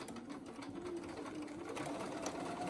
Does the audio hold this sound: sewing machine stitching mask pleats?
yes